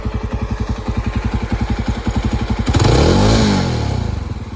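A Jawa 42 Bobber motorcycle engine idles with a rapid, steady putter, then revs sharply upward toward about 7,000 RPM and winds back down, loud and close.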